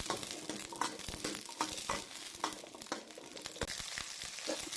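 Onions sauté in oil for a cauliflower gravy, giving a soft, continuous sizzle under light stirring scrapes and clinks of a spoon against the pan, with no speech.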